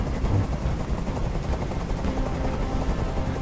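A helicopter in the video game Detroit hovers nearby, its loud rotor thumping in a dense, continuous rumble with no talk over it.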